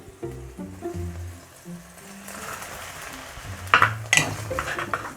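Pre-chopped onions tumble from a board into a cooking pot for Korean doenjang jjigae, giving soft scraping and rustling followed by a couple of sharp metallic clanks near the end, close and fairly clear.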